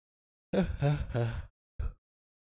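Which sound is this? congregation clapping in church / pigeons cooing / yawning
yawning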